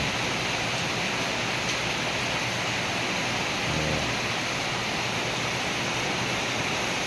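Heavy rain pours down in a dense, unbroken hiss, loud and steady from start to finish, with a brief low rumble partway through.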